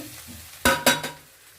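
Potatoes and onions fry in a pan, with two or three sharp scraping stirs in quick succession over a faint background sizzle.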